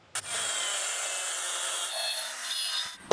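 A tool cuts through the plastic side cover of a Passion Pro motorcycle with a steady, hissy grinding rasp for about three seconds. It is close and fairly quiet, with a sharp knock at the start and end.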